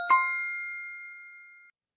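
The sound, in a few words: correct answer bell ding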